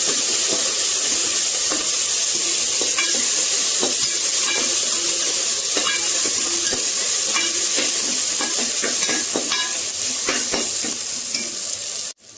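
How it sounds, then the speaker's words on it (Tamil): Mint and coriander leaves sauté in a pan for a vegetable masala curry, with a loud continuous sizzle and repeated stirring clicks and scrapes nearby, no voices. "புதினா ஒரு கைப்பிடி சேர்த்துக்கலாம் இதோட சேர்த்துட்டு மல்லித்தலையும் ஒரு கைப்பிடி சேர்த்துக்கலாம் சேர்த்துட்டு நல்லா வதக்கிக்கலாம்"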